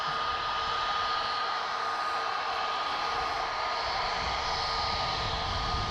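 Ryanair airliner lining up on a runway at Dublin Airport, a steady, even engine whine and hiss held at constant level throughout, heard alone without talk.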